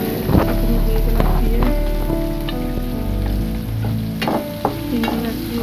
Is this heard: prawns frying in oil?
yes